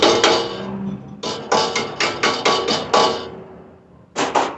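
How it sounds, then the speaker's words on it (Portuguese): Repeated sharp taps of a small rubber mallet on a bent iron piece for handicraft, about eight close, loud knocks in an uneven rhythm with short pauses, with no talk. "pega um martelinho de borracha, dá uma batidinha nela"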